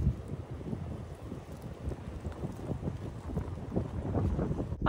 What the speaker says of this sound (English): hopefully y'all can see me over the wind